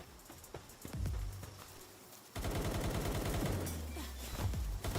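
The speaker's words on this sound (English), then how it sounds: "She has a minigun." In the video game Palworld, a minigun fires in a rapid, continuous rattling burst. It follows a few scattered shots and stays fairly quiet in the mix.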